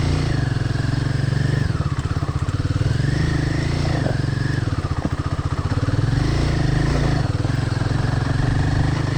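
A Tata Sumo SUV's engine drones steadily and close while driving an off-road track, with the pitch rising and falling as it works over rough ground, plus rattles and clatter from the body.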